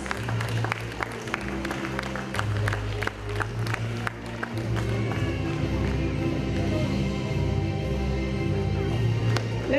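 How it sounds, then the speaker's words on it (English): Audience clapping for a nursery child at a kids' school annual day event, a steady crowd applause with scattered sharp claps over a low hum of music or background noise. "Another round of applause for Shreyas."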